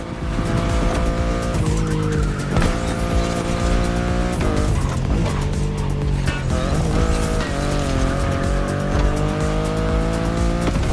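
A BMW i8 in the racing game The Crew Motorfest drives hard, its engine droning loud and continuous with tire squeal and skidding as it corners, and no talk over it.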